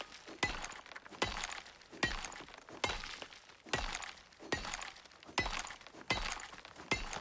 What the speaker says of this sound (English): Iron and gold getting mined.